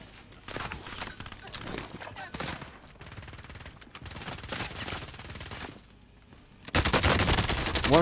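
Video game gunfire: rapid bursts and sustained automatic fire at mid distance, ending in a loud close volley, under a steady game background with no clear talk.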